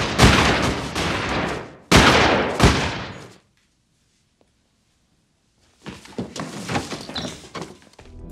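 Rapid gunfire in a film scene as someone shoots blindly, two dense loud bursts of shots, a silent gap, then a further rattling volley of firing.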